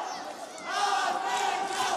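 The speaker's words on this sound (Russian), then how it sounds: "скандируют болельщики" Boxing fans in an arena chant a boxer's name at a military boxing championship, a dense crowd roar that swells after a brief dip and holds loud to the end.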